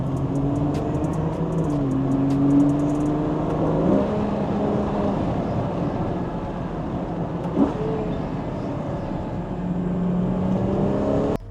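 A Ferrari Purosangue SUV engine revs up hard accelerating in a short first gear, pitch climbing quickly before shifting, with a steady droning exhaust throughout.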